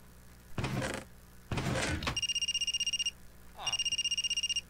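An electronic phone ringtone in the video game Under The Dome rings in two repeating bursts of rapid trilling tones, preceded by louder noisy game sounds like a door or thunk.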